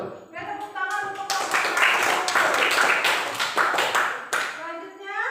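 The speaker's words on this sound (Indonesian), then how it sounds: "Tepuk tangan untuk" A group of listeners, with children's voices among them, clap for a presenting group in a classroom setting: a dense burst of applause lasting several seconds, with some voices mixed in.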